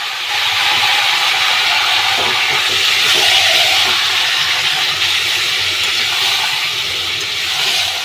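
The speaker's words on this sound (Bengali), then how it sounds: "এবার আমি ভালো করে এটা তেলে দিয়ে ভালো করে নাড়ালাম।" Boiled taro greens and chickpeas are stirred in hot oil, giving a continuous loud sizzling hiss with faint scraping throughout.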